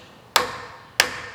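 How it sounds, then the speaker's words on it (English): A small copper hammer lightly taps twice on a part of a 1920s Ford Model T magneto or coil tester, each tap a crisp, close metallic knock with a short ring, spaced about half a second apart. "now we can tap it down with a copper or lead hammer"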